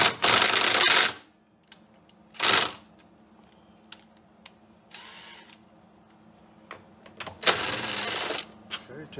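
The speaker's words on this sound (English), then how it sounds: "what we're going to do is remove those two bolts" Bolts being removed from a Honda EU6500is generator, heard as a few loud, short bursts of rattling, ratchet-like tool noise separated by quiet gaps, close by.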